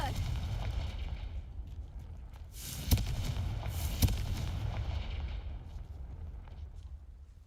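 In Hogwarts Legacy, a Confringo blasting spell strikes rocks, giving two sharp cracking impacts amid a rumbling, crackling roar of debris that slowly fades away.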